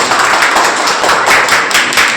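A room of people clapping for a correct answer at a school quiz event, a dense, loud burst of applause that holds steady for a couple of seconds.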